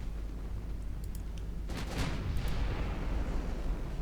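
5-inch secondary naval guns fire in Ultimate Admiral Dreadnoughts, a burst of overlapping booms with rumbling tails following a couple of faint sharp reports over a steady low roar.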